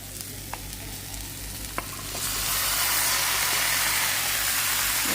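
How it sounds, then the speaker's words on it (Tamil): Broccoli and garlic hitting hot oil in a pan, a few light scrapes of stirring before the sizzle swells into loud, steady frying that fills the rest of the stretch. "இது நல்லா இந்த மாதிரி ஃப்ரை பண்ணிடுவோம்."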